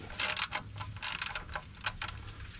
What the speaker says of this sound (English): We're gonna need a 14mm spanner or socket with a ratchet, which I'm using in my case